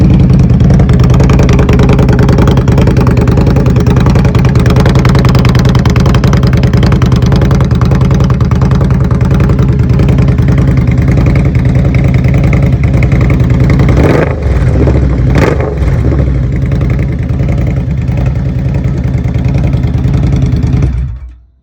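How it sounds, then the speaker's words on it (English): Indian Scout cruiser motorcycle engine running loud and close, a steady heavy idle and rumble held for about twenty seconds with a couple of short revs midway before it cuts off at the end. "I'm going to start the bike up so you can hear the sound that comes out of it."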